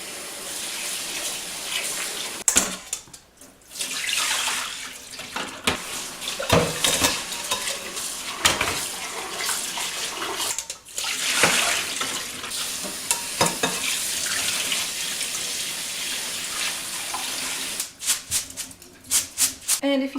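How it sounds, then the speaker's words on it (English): Rice being rinsed by hand under cold running tap water in a home kitchen; continuous splashing and swishing water with intermittent louder stirring bursts and brief gaps, fairly close and moderately quiet. "The first thing we're going to do is just rinse this rice under cold water."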